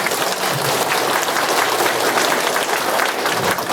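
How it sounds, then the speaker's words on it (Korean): A seated audience at a residents' briefing on a Songpa-gu Moa Town redevelopment plan applauds steadily, a dense, loud wash of clapping that holds evenly throughout. "격려의 박수"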